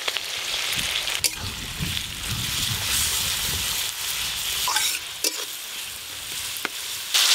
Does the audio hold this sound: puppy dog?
no